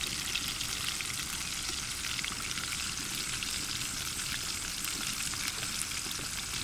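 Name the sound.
chicken wings frying on low heat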